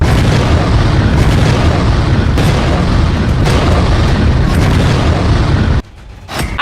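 Missile strike explosions fired by the Indian Army on target camps, a loud continuous booming rumble with repeated heavy blasts that suddenly cuts to near quiet near the end.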